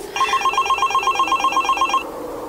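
A cellphone rings with a rapid, repeating electronic trill in quick regular bursts, clear and close, stopping after about two seconds.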